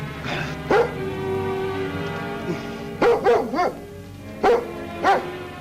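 A dog barks several times in short bursts, a single bark and then a quick cluster, over a low background drone.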